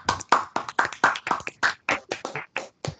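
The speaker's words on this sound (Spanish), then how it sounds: "Un aplauso para Navas" Steady, evenly spaced claps ring out alone and fairly faint at an evening student recognition ceremony, as an audience applauds a departing speaker.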